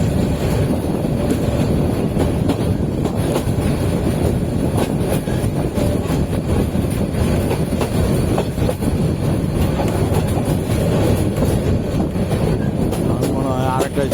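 Bijoy Express train running on rails through jungle, a steady loud rumble and clatter of wheels and carriages continuing throughout, with faint voices underneath.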